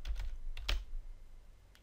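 Computer keyboard keys tapped while entering a query in Microsoft Access 2013, a short burst of quiet, close clicks followed by a lone keystroke near the end, with no talking.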